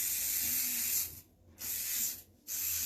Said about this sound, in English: I'm going to just spray it, a little hairspray, so it can start setting